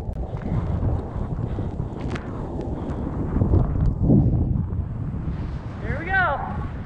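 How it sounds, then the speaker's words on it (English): Strong wind gusts buffet the microphone at sea while paddling off Maui, a steady low roar with splashing water throughout and a voice talking over it. "Wind's kind of coming up a little bit."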